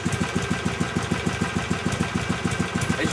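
A Harley-Davidson Sportster with a Screamin' Eagle exhaust idles close by with a steady, rhythmic low putter, even pulses repeating quickly throughout, moderately loud and alone.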